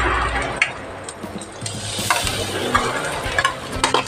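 Quail gizzards hit a hot pan with ginger and tomato, sizzling and frying steadily with stirring scrapes and small clinks throughout, close and moderately loud, with no talking.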